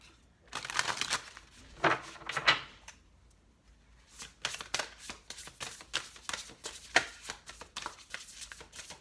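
Tarot cards being shuffled in quick papery bursts, a dense riffle at first, a short pause, then a run of crisp separate flicks and taps, close and fairly soft.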